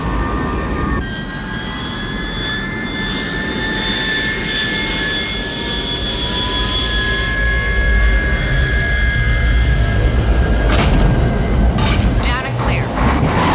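Dropship engines from the 1986 film Aliens, setting down on a landing grid: a loud, steady jet-like roar with whining high tones throughout, a couple of sharp clanks near the end, and faint voices beneath the noise.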